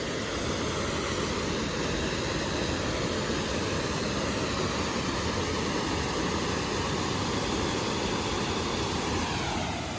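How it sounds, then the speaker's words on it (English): Horseshoe Falls, a waterfall in a South Carolina state park, gives a steady broad roar of rushing water that stays loud and unbroken throughout, with no voices. "There it is, the beautiful Horseshoe Falls."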